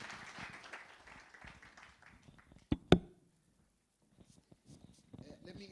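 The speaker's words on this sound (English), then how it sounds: "Give him a wonderful round of applause, bro." An audience at a leadership dialogue event claps, a diffuse round of applause that thins out and fades, followed by a couple of sharp knocks and near silence with faint voices.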